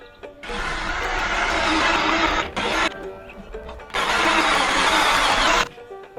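Hot rod engine cranking without firing, two long whirring starter bursts of a couple of seconds each with a short pause between, loud and close, no catch.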